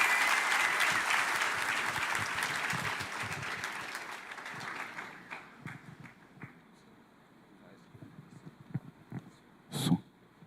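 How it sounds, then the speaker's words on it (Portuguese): A church congregation applauds at a celebration service, full clapping at first that gradually thins out over several seconds into scattered claps and a few louder knocks near the end. "Vamos receber um aplauso a Jesus Cristo."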